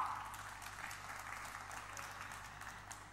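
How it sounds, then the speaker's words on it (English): Audience applause fills a car launch event for the all-new 2024 Hyundai Creta, a steady, dense clapping from a crowd that holds at an even level with no talking over it. "Yes, that deserves another thunderous round of applause."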